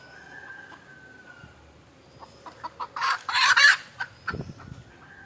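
A native country hen clucking near a coop, its calls starting soft and sparse, then building into a loud, rapid run of clucks before trailing off.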